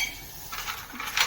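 A metal pan set down and handled for making fennel iced tea, with a few light clinks and clatters of metal on metal close by, fairly quiet, without talking.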